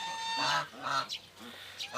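Geese at a small pool give several close, nasal honks in uneven bursts, with faint running water and quiet background sound between calls.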